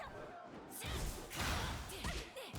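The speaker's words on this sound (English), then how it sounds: "You heard the glass shatter there?" Glass shattering in a video game as a character is caught in a parry stance, heard as a loud crashing burst amid game noise and scattered voices.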